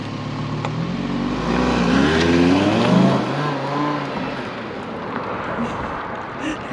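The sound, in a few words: sports car exhaust, Audi R8 or Shelby GT500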